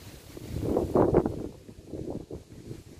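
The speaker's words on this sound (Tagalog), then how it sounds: "Lakas ang hangin." Gusty wind roars and buffets the microphone at Digos Hills, Bulacan, swelling loudly then easing into a steady rush.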